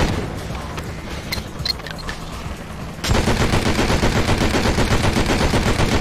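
Rapid video-game gunfire from Enter the Matrix, a 2003 Shiny Entertainment title: a dense, continuous burst of automatic shots that erupts loudly partway through after quieter ambient game sound.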